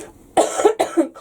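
A person coughs twice in close succession, near and fairly loud, during outdoor garden work while suffering a chesty cough.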